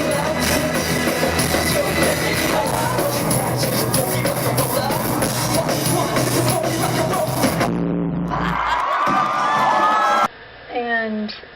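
A concert crowd at a show roars and cheers loudly and continuously over the band's amplified music, with shouts and whoops throughout before the sound cuts away near the end.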